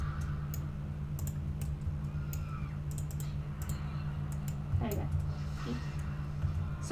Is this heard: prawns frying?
no